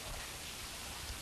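A small home water fountain and waterfall splash in a steady, even wash of soft hissing noise, continuous and fairly faint, with no voices.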